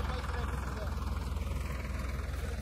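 A tractor hauling a fully loaded trailer of corn cobs runs steadily, its low diesel rumble throbbing close and continuous throughout with no break.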